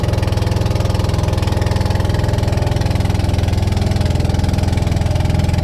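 A boat engine idles close by on the Amazon River, a constant low rumbling drone with a regular throb that never lets up.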